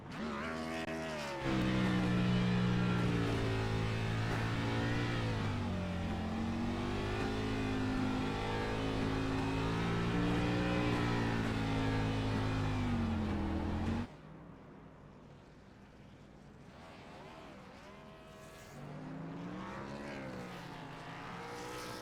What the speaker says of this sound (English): Really the first burnouts we've seen all week.